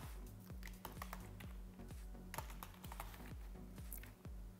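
Rapid, steady keystrokes clatter on a nearby computer keyboard, with no voices.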